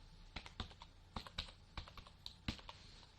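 Keys clacking on a computer keyboard as a PAN card number is entered into an online Canadian Parent Super Visa application form, short bursts of close, crisp taps with brief pauses between, no talking.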